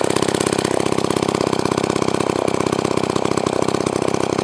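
A Jobu Tiger chainsaw engine idles close by with a steady, fast, even putter and loud, unchanging rhythm throughout.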